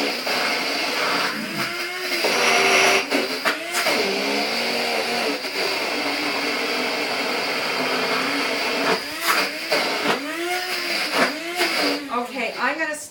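An electric grinder whirs steadily while grinding mustard seeds, its motor pitch shifting as it works, with occasional speech over the noise.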